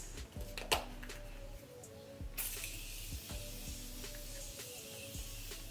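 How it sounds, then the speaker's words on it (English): Morphe Continuous Setting Spray mists out in a sudden steady hiss that continues to the end, after a few soft clicks and handling sounds, close and quiet, with no speech. "I'm going to use the Morphe Continuous Setting Spray."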